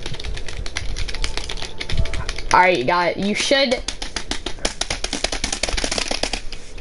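Rapid clatter of keys on a computer keyboard, dense and continuous throughout, with someone speaking briefly over the middle of the typing.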